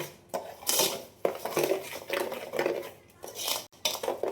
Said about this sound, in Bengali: চিনির সঙ্গে তালের পাল্পটাকে আমি প্রথমে একটু মিশিয়ে নেব।